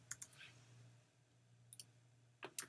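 Computer mouse clicks in Photoshop's layers palette, a few quick, sharp, close clicks in small clusters at the start, middle and end, over a faint low hum.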